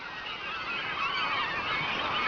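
A large flock of geese honks continuously, a dense overlapping chorus of calls that stays loud and close throughout and swells slightly toward the end, with no talking.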